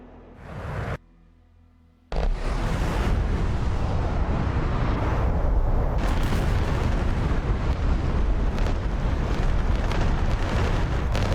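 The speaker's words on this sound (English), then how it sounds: "The bombs hit the SAM site with great success" Bombs dropped from an F-15E strike a SAM site in a flight-sim game: after a brief hush, a sudden heavy blast gives way to a sustained, loud rumbling roar of explosions that fills the rest.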